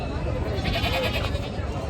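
Goats, local Osmanabadi and village breeds, bleat at a busy livestock market in Chakan, Maharashtra. Their cries rise over a dense, steady crowd murmur, and people talk nearby.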